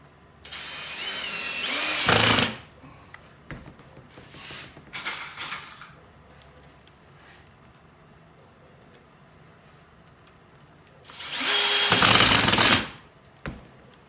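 A power drill whirs loudly in two bursts of a couple of seconds each, with quieter handling noises and clatter in between.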